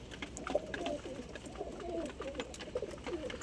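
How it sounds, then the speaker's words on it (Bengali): Male pigeons feeding in a loft, with a steady run of soft overlapping coos and throaty murmurs close by, plus faint pecking and shuffling beneath. "সমস্ত নর পায়রাগুলো প্রায় মোটামুটি খাচ্ছে"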